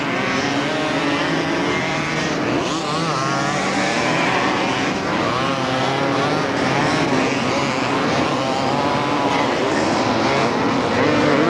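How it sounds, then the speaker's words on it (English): A 250cc Yamaha motocross bike races on a beach circuit among other machines, a continuous loud, buzzing two-stroke engine drone that rises and falls as riders pass, with faint commentary underneath. "that's probably a 250 machine, which it is. Alex Owen on a 250 Yamaha"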